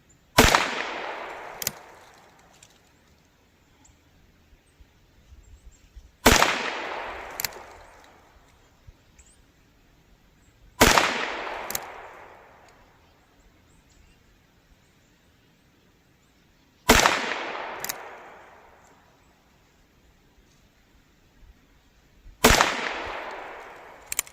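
Five sharp gunshots from a Ruger Wrangler revolver with a 7.5-inch barrel, fired alone at steady intervals of about five seconds outdoors, each crack trailing off into a long echo.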